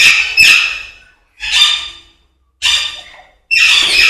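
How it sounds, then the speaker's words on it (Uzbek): Alexandrine parakeets and other parrots in a breeding aviary let out four loud, harsh squawks, each a sharp burst that fades before the next, with brief silences between. "Bu yoqda ham Aleksandrskiy papugaylar, maladoylari bular ham"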